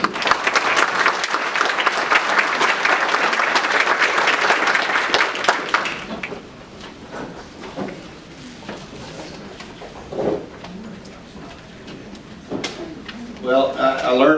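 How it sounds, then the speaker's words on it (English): An audience at a Summer Creek business meeting applauds Mr. McCord, with a loud burst of clapping for about six seconds that fades into quieter room noise before a voice starts speaking. "So please give him a round of applause"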